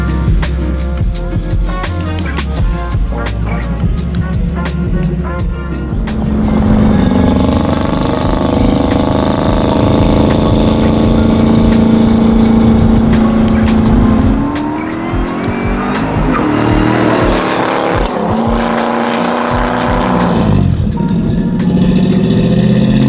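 A 650 hp supercharged LT4-powered 1968 Camaro restomod with a six-speed drives hard, its loud engine roaring, climbing through revs and dropping between shifts, with supercharger whine and brief tire noise, close and dominant throughout.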